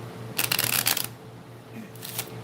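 Oracle cards shuffled by hand in two bursts of riffling, a longer one and then a short one, close and crisp over a quiet background hum.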